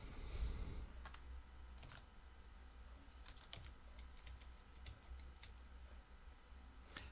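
Quiet, steady tapping of a computer keyboard while a word is looked up in a dictionary, soft scattered keystrokes with occasional sharper clicks and no voices.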